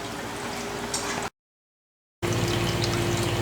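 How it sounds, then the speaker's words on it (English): Boiling water pours from a kettle over noodles in a bowl, a steady close trickling stream that cuts out for about a second of silence before flowing again. "just poured some boiling water over those noodles"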